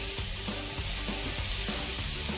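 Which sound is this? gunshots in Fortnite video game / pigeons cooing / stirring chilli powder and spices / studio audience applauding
stirring chilli powder and spices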